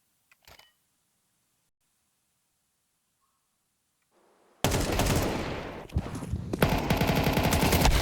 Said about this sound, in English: Crispy couple of shots just to deal with those pistolas